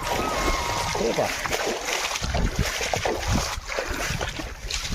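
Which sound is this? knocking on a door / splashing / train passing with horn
splashing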